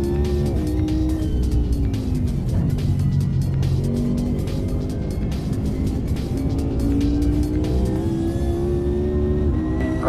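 A Mercedes GT1-class race car in Automobilista 2 roars steadily at close range at Donington Park, its engine pitch rising and falling through gear changes without pause, with light tyre noise and no talking.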